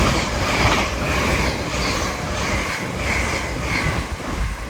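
An LNER Azuma train from Edinburgh Waverley to London King's Cross passes through Alexandra Palace on the East Coast Main Line, a loud steady rushing roar with faint wheel clatter, continuous and close.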